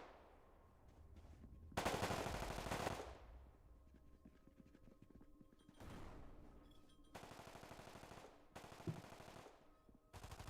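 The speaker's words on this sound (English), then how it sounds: "I heard some shots landing near me" Bursts of machine-gun fire in Deep Rock Galactic, several separate rapid volleys that sound somewhat distant yet punchy, with quiet gaps in between.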